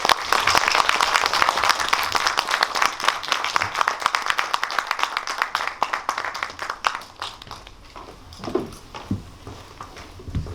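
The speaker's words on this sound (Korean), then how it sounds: "박수 부탁드리겠습니다" Sustained applause from a cinema audience welcoming a film director and a history lecturer to a movie talk event, dense clapping that holds steady for several seconds then thins into scattered claps toward the end.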